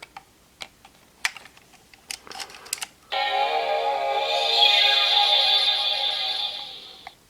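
A few clicks and taps as a card slides into a Kamen Rider Zi-O K-Touch 21 toy, then a loud electronic chiming tone sweeps up and sustains for several seconds, like a toy gadget powering up.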